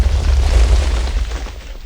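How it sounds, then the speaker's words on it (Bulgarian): Blocky TNT blast in Minecraft, several charges fired from a lever-triggered launcher, giving a loud, deep rumbling boom that rolls on for about two seconds with no talk over it. "Виждате какво се получи с няколко пъти, с няколко изстрелвания на вашите TNT-та."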